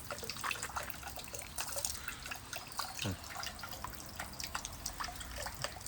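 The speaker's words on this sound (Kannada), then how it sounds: "ಈ ರೀತಿ ಕೈ ತೊಳ್ಕೊಂಡು" Water dripping and trickling as hands are washed at an outdoor Tokyo temple basin, soft splashes scattered over a steady wet background with no talk.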